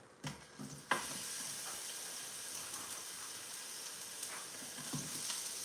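Onions sizzling in warm sesame oil in a pan, a steady close crackling fry after a couple of soft clunks at the start, with no talk.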